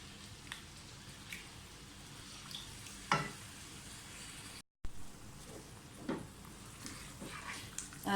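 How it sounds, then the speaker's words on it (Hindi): Chicken pieces for karahi fry in hot oil, a soft, even sizzle with occasional crackles and stirring scrapes, close by and fairly quiet, briefly cutting out once, with no talking. "तो अच्छी तरह से पहले इसको फ्राई कर लें।"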